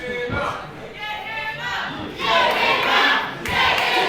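A wrestling crowd at a Royal Rumble event cheers and shouts in a sustained, dense roar that swells louder in the second half, with a voice talking over the noise.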